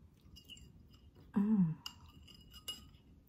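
Someone chews and eats spicy chicken adobong puti sa gata, with soft close mouth sounds, a short vocal murmur of enjoyment, and light clinks of cutlery against dishes.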